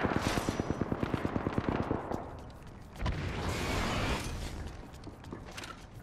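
Apex Legends gunfire opens with a rapid, even automatic burst, close and loud, followed by a heavy blast and a few scattered later shots fading out.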